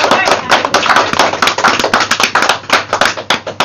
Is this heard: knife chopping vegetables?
no